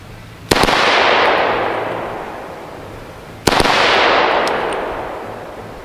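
Two sharp gunshots about three seconds apart from a Shaolin Rifleworks 300 BLK carbine fitted with a red dot sight, each crack loud and close with a long rolling echo trailing off outdoors.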